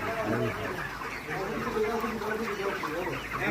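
A crowded broiler chicken house on a hot farm, birds clucking and murmuring continuously at close range, with someone talking over the flock.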